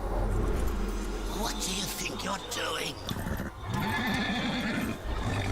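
A horse in the video game Darksiders whinnies loudly several times over a rumbling game background, while someone talks over it.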